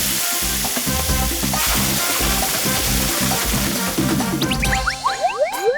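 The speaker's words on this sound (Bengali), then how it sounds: "শুটিং এ পুরো জল ঢেলে দিল" Water gushing from a firefighter's hose in a cartoon film-shoot scene, a loud continuous splashing rush that ends in a few bubbling, boinging comic effects.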